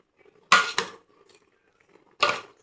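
Metal spatula scraping and clinking in a pan while stir-frying choy sum with seasonings, three sharp bursts, two close together, then a pause before another.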